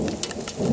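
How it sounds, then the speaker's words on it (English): Steady rain pours down with a low rumble of thunder underneath, a brief, close wash of noise without any voices. "Let the thunder be our music."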